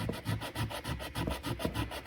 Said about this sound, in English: I just want to put a little bit of bite on this gasket surface here. Just a light scratch. We got some 220 here.